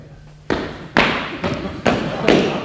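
Feet thudding on a floor while running, five heavy, evenly spaced thumps, close and loud, each fading quickly.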